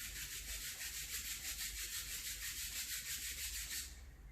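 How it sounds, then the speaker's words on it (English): Palms rubbed briskly together during a yoga session, a steady swishing friction that runs for about four seconds with fast even strokes, then stops abruptly; no one speaks. "Rub your palm please."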